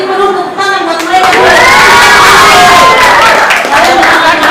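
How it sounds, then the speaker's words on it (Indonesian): An audience applauds and cheers for a pair of dancers after a traditional dance performance at a school talent show. Loud, dense clapping and shouting from a crowd build up after a short quieter opening and then hold steady. "Beri dulu tepuk tangan buat mereka."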